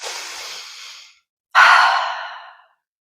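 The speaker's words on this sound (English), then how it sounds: "Take a deep breath." Two deep breaths, a long inhale and then a fuller exhale, close and clear with a short silence between them.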